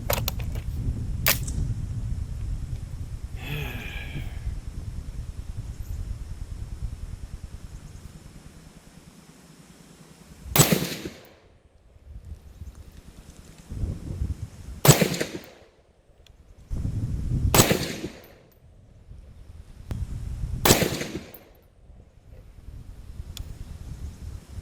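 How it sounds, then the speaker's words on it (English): An AR-10 rifle firing Federal 150-grain lead-tipped ammunition outdoors at targets: four sharp reports spaced a few seconds apart, with a low rumble and hiss between them. "the next type of ammo we're going to be using is this Federal 150 grain, also lead tipped"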